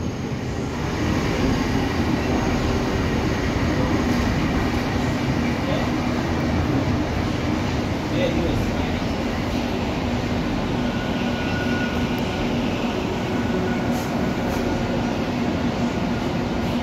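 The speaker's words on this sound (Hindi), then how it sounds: "देखिए हमारी ट्रेन एकदम नज़दीक आ गई है स्टेडियम के।" A metro train rolls toward Motera stadium, its steady, loud broadband rumble and rail noise filling the whole stretch without a break.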